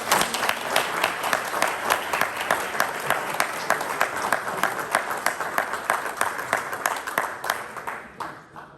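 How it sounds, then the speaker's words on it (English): A round of applause from an audience at a religious study completion celebration, dense clapping with rhythmic pulses that swells steadily and then fades out at the end. "I want to give a huge round of applause to the wives of our Tequila and Tanya men"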